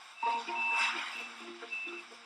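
Trucks arriving at a plastic recycling warehouse, loaded with sacks, sound a steady series of reversing beeps over a busy background of engine and machinery rumble.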